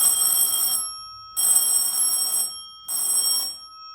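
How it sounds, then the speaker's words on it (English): An alarm test bell on a replica Tower of Terror elevator control panel rings loud and close in three rapid trilling bursts separated by brief silences. "sets an alarm test off."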